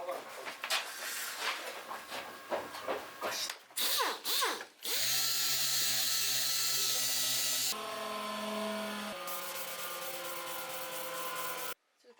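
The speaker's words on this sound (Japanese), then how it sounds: "最終のクリアを吹き終わってるんで、研磨をしてバフ掛けしていきたいと思います" A rotary buffer whirs against a clear-coated blue guitar body in a workshop, first in short choppy bursts, then as long sustained tonal whines that shift pitch as the tool is pressed and eased.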